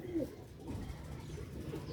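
Sialkoti grey pigeons coo softly and close by, with a brief call near the start over a low, murmuring background.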